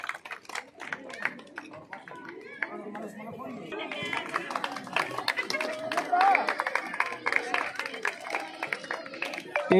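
Clapping from a crowd at the opening of a mandal-level school sports meet, starting with scattered claps and swelling into sustained applause mixed with crowd chatter and voices.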